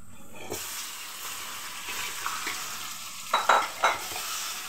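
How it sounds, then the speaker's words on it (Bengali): Marinated meat frying with onions in a pan for a meat kalia, a constant loud sizzle and hiss close up, with a few sharper spatters and stirring scrapes near the end. "পেঁয়াজটা যখন এরকম একটু ভাজা হয়ে আসছে তখন আমি দিয়ে দিচ্ছি মাংসগুলো, মাখানো মাংসগুলো।"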